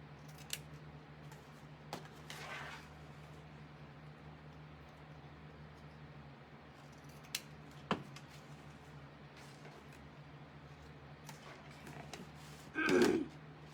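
Scissors trim ribbon for a candy cane Christmas decoration, giving a few faint, sharp snips spaced across a quiet room with a steady low hum.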